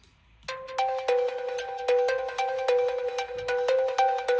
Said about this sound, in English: we got this Spire pluck, it's called +1. Then I just layered it with another pluck